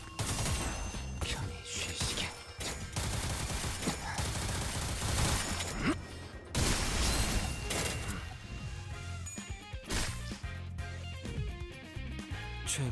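Rapid gunfire from the video game Limbus Company: dense, loud bursts of shots and crashing impacts run for several seconds, then thin out into scattered hits over game sound.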